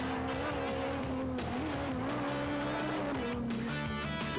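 A rally car on a closed stage at the 1994 Rallye du Var in France, the engine revving hard and shifting through gears as it passes, with tyre noise and a loud, continuous roar.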